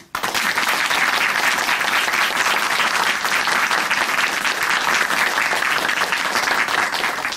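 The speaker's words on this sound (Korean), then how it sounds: "우리가 다시 한번 응원의 박수 보내드리겠습니다." Applause from the studio audience of a Korean Christian television program, a dense, even wash of clapping that starts abruptly and holds steady and loud throughout.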